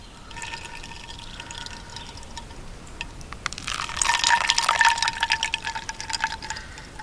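Brown liquid poured slowly and dripping out the bottom of a container at a campsite, a soft trickle that swells into a louder, splashier run of drips and pattering near the end.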